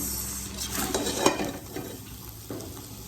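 Hakka noodles being stirred and tossed in a hot pan, soft scraping and rustling over a low sizzle, with a louder clatter near the middle, fairly quiet and close.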